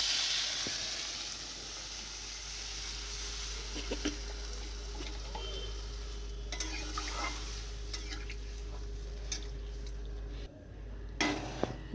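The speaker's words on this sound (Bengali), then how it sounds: "এবার দিয়ে দেবো জল।" Water is poured into a hot pan for a fish curry with potato and eggplant, giving a faint, steady sizzle and hiss with occasional scrapes and clinks of a utensil against the pot.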